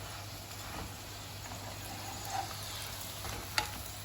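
A parantha cooks in a pan with a faint, steady sizzle, plus a couple of soft taps and a light clink from turning it.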